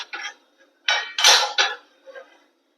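A chicken biryani pot is opened and dishes are handled, producing a few short, close metallic clanks and scrapes of lid and utensils separated by brief silences.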